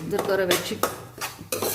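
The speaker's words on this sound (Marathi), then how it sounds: "आपण तुपामध्ये सुद्धा खूप छान भाजून घेणार आहोत रवा" Semolina roasts in ghee in a heavy-bottomed kadhai as a metal spoon scrapes and clanks against the pan in quick, uneven strokes, close and fairly loud.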